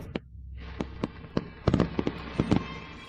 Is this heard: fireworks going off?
yes